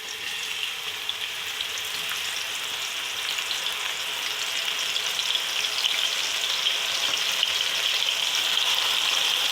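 Onions for chickpea pulao frying in hot ghee, a steady close sizzle with fine crackling that grows slightly louder over time, no voices.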